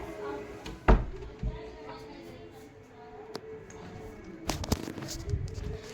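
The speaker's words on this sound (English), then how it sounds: "let me close my door" An indoor door shuts with one sharp thump near the start, followed by a few softer knocks and rustles, then a cluster of light clatters near the end, all quiet and close in a still room.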